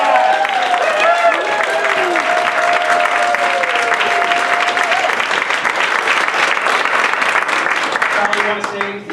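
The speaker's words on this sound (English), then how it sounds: "So big round of applause." Audience applause fills a meeting room, steady and close with dense clapping throughout, while a few voices and a tonal sound ride over it before it tapers near the end.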